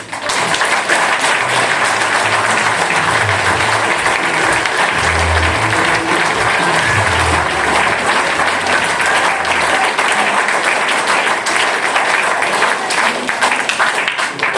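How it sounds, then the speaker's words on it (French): An audience applauds children from a theatre workshop after their performance, a long, even wash of clapping from a sizeable crowd that holds steady and loud throughout. "je vous propose de les applaudir encore"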